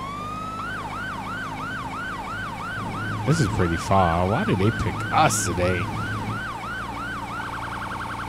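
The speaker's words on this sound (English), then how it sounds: "let me know if I'm using the right siren for Oklahoma" A police car siren in GTA 5 with an Oklahoma state patrol mod wails in a rapid repeating yelp, loud and continuous, with vehicle rumble beneath and someone talking over it midway.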